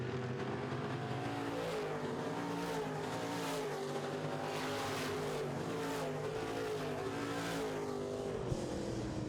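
Midwest Modified race cars on a speedway, engines droning continuously as several cars run laps together, with rising and falling pitch as they pass, steady and loud, tire noise mixed in.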